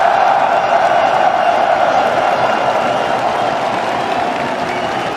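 A large crowd roars with cheers and applause for FaZe at the PGL Major Antwerp 2022 esports grand final, a dense sustained wash of noise that stays loud throughout.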